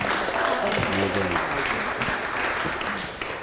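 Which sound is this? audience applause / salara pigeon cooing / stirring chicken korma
audience applause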